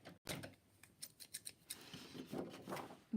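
Sticky scissors snipping through card, a quick series of close, crisp cuts with uneven rhythm and no talking.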